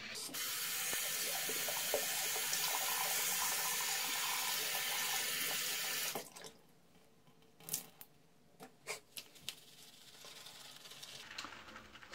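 Tap water runs loudly into a sink to wet a synthetic shaving brush, a steady rushing stream that stops abruptly partway through, leaving a few soft handling clicks and taps.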